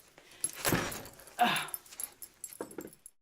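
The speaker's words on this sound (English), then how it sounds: "my puppy doesn't know he's a big dog" A big puppy moves about close by, with scuffling, soft whimpering noises and a faint jingle of tags, coming in short uneven bursts between quiet gaps.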